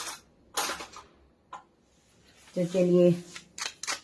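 Crispy fried sabudana snack being broken apart by hand, a few sharp, close crackling snaps separated by pauses, with someone briefly speaking between them.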